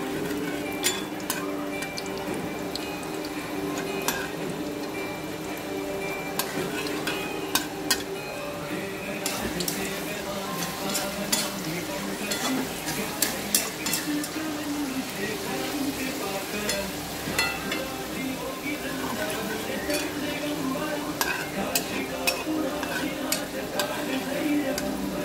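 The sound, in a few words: tempering spices frying in peanut oil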